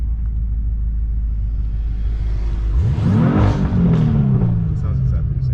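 A 750 HP BMW M5 engine sits at a low rumble, then revs up sharply, the pitch climbing and falling back as the engine note swells loud and close, with a crackly edge on the rev.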